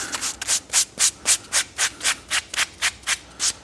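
Rhythmic sanding strokes on the Alcantara interior of a Corvette, about a dozen evenly spaced scratchy rubs close to the mic with no talking.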